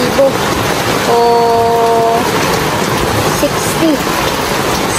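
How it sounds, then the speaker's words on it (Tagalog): Heavy rain pours down on a farm in a dense, steady hiss that fills the whole clip, with faint tones and scattered sounds mixed underneath. "Malakas ang ulan, no?"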